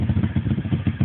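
A pit bike engine runs close by with the throttle blipped, a rough, pulsing low putter that swells and dips rhythmically over about a second.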